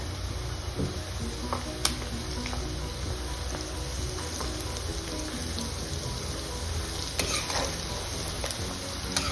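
Ginger garlic paste fries in a pan for a mutton dish, giving off a continuous crackling sizzle with occasional sharp pops and light stirring scrapes, close and steady.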